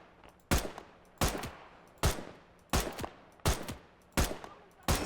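Gunfire in Gates of Hell WW2, a WW2 strategy game, comes as seven loud, sharp single shots spaced at fairly even intervals, each followed by a short fading echo, with no talking.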